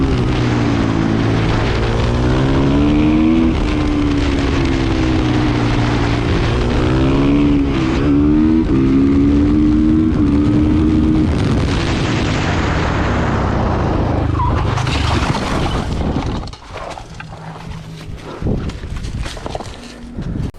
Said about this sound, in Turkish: Ülkemizdeki motosiklet kazalarını azaltmak için çıktığımız bu yolda Devrim hocamızla beraber kazaları incelemeye devam ediyoruz